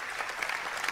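Audience applause breaks out for a comedian on stage at a radio-show event, a steady dense clatter of many hands that fills the short moment without any talk over it.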